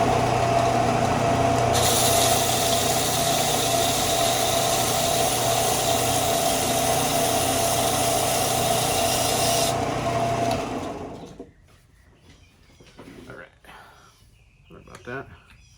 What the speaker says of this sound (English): I can hit it on the bandsaw right behind us